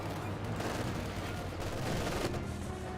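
Distant battlefield gunfire from the World War II strategy game Company of Heroes 2 rattles almost without a break. Machine-gun bursts blend with scattered shots into a steady, moderately loud din.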